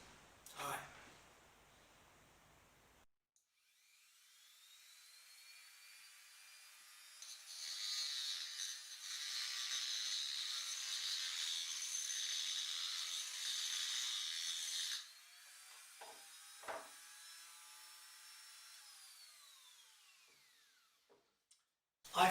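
An angle grinder cutting a hole, a steady high whine that holds for several seconds and then drops away, with a few clanks and quieter handling noises around it.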